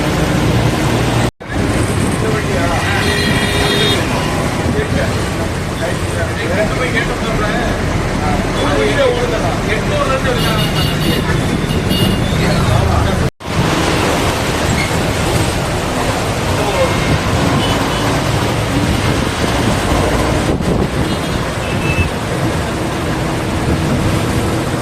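Double-decker city bus riding through Chennai traffic, with a loud, steady rumble of engine and road noise and murmuring voices throughout, broken by two brief dropouts.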